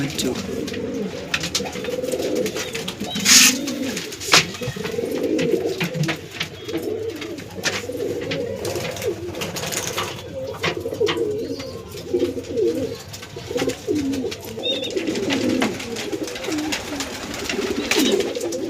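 A female pigeon back home cooing steadily at close range, soft rolling low coos repeating throughout, with occasional faint background noises.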